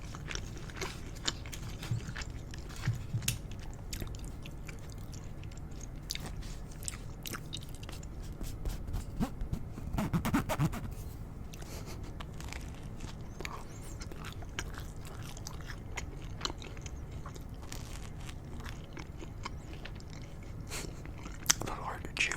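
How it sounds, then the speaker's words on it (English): Mukbang-style eating of slightly old, no-longer-warm Cheesecake Factory takeout food that is a little hard to chew: soft, close-miked biting and chewing runs steadily throughout, with small crunches, low mouth noises and faint whispery breaths in a quiet room. "A little hard to chew."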